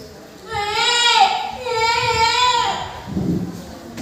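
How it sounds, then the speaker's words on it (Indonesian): A baby cries loudly in long wailing bursts with a brief pause between them, close and prominent, with low background noise at the end. "dia dibangunkan karena tangisan seorang bayi yang sangat keras"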